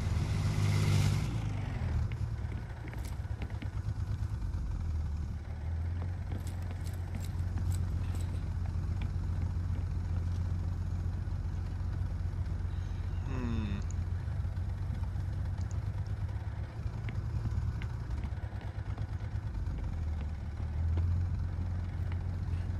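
Diesel engine of a BTR-80A armored vehicle in the Squad video game, a steady low rumbling drone running continuously throughout at a constant level, with a brief revving sweep partway through.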